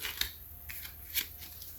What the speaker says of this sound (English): These new decks are a little stiff. They're not the easiest to shuffle right now.